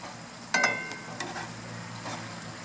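Ranch meatballs sizzle in a pan on a backyard grill, a steady soft frying hiss with a few brief clinks and scrapes as they are turned, close and without talk.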